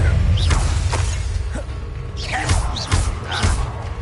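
Spell-casting effects from the Hogwarts Legacy game: whooshing magic bursts with thuds and crackling impacts, several sharp hits spread across a few seconds amid combat noise.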